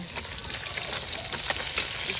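Fish frying in oil in a pan, a steady close crackling sizzle with faint stirring ticks, fairly quiet and uninterrupted, no talking.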